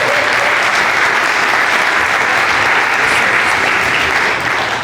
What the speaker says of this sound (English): Everyone give a warm round of applause to Adam Solis Jr.,